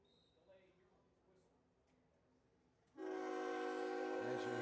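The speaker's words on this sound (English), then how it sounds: "As you hear the train in the background of the Rams sideline going by." A train passes near the sideline of a football stadium, heard as faint, distant rumbling. Partway through it is abruptly drowned by a loud, steady, horn-like blast.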